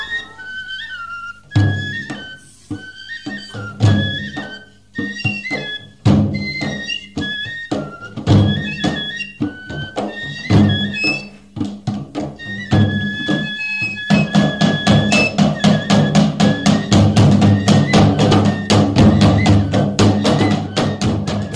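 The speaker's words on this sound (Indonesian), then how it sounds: "terdengar bunyi-bunyian tifa dan alat musik lainnya yang memang sedikit memacu adrenalin saya" Tifa drums and other traditional instruments play at a Buru wedding, sharp drum strokes mixing with whistle-like melodic tones, then building into a dense, loud, steady rhythm toward the end, with no speech.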